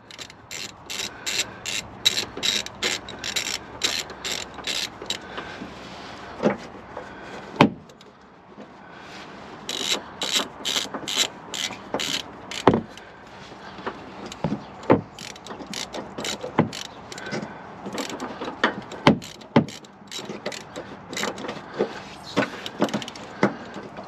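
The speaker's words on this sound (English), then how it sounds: "Now it's time to just screw the nut on here and we're done." A ratchet wrench tightens a nut on a bolt while fitting Sumo Springs to a Sprinter van's suspension, with bursts of rapid clicking pawl strokes separated by pauses and occasional metallic knocks, close and clear, no talking.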